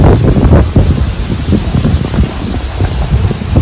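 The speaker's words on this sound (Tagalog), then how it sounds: "ang lakas din ng hangin" Strong typhoon wind from Typhoon Ulysses near a river, roaring and buffeting the microphone continuously with gusty low rumbling swells throughout.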